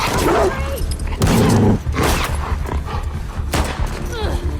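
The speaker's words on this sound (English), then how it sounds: "The WLF, they have trained dogs that will sniff and attack you." Trained attack dogs of the WLF faction bark repeatedly in the video game The Last of Us Part II, loud and close, amid sharp gunfire-like bursts and dense combat noise.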